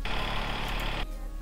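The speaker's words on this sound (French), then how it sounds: "le tracteur défonce vraiment les oreilles" A loud, steady tractor engine drones with a rough, pulsing rumble for about a second, then cuts back to a lower background hum.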